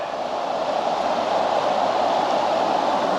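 A creek near a campsite rushing steadily, a loud, continuous broadband wash of flowing water heard close up with no talking.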